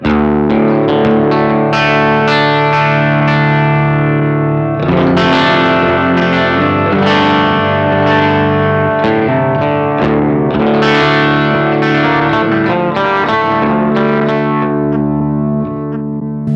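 Guitar run through a Hologram Chroma Console set to drive, doubler, collage and filter, loud strummed chords with a thick doubled, modulated tone and repeating delay tails, ringing out continuously without speech.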